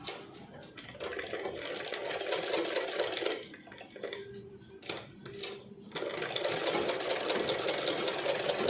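Sewing machine stitching a silk skirt, close whirring bursts of needle action with a short pause midway before running steadily again.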